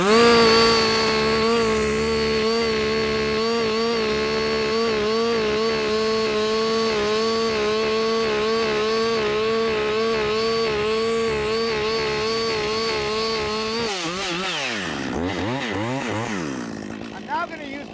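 A chainsaw runs loud and steady while cutting into a tree during felling, with a throaty two-stroke drone that wavers and then bogs and shifts pitch near the end.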